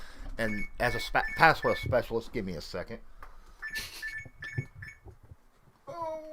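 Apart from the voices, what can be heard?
alarm beeping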